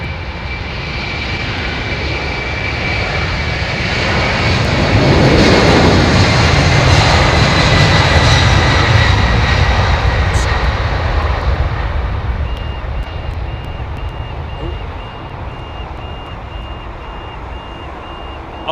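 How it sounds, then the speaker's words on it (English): A Qantas Boeing 767-300 jet passes at an airport, its engines swelling into a loud roar that peaks midway then fades, with a reversing beep pulsing faintly later on. "This is the 767."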